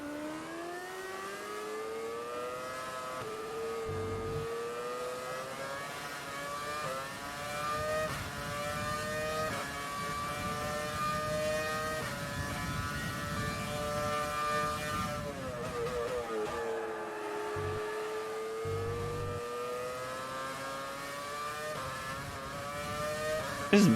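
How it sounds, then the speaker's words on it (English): A V10 race car engine drones steadily in the background, its rising and falling harmonic whine tracking gear changes and throttle through corners, continuous and fairly loud with no speech over it. "You keep hearing a V10 in the background."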